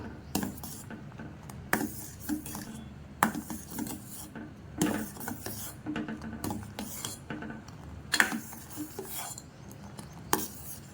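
A spoon scrapes and clinks against a pot while milk powder is stirred into a semiya kulfi mixture, with repeated rhythmic strokes and light metallic taps close by, and no talking.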